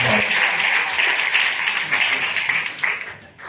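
Audience at a stand-up comedy show during an immigration lawyer conference in New York City breaks into steady, dense applause that carries on throughout, fading slightly at the end.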